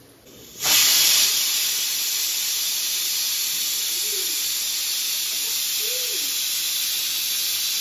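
Steam hisses loudly and steadily from a pressure cooker boiling dal, bursting on suddenly and then holding as a continuous rushing jet that fills the kitchen, with no voices.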